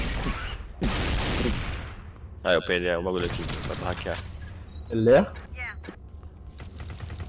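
Bursts of automatic gunfire from the sci-fi co-op shooter Alien Swarm, a loud rattling burst early on followed by shorter shots, with someone talking over the action.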